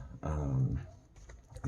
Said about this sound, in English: Whenever the doorbell rings, the dogs go insane.